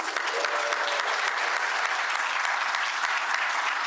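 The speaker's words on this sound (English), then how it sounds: "May I have another round of applause for these great organizations?" Audience applause at a Rotary club meeting, a dense, steady wash of many hands clapping at even loudness throughout, heard alone without talk.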